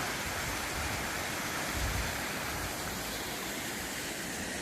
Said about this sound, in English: Such a beautiful river.